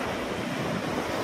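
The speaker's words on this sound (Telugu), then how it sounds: "అలలు అయితే ఘోరంగా వస్తున్నాయో," Ocean waves crash on a beach in Chennai, a dense and continuous roar of surf mixed with wind buffeting the microphone.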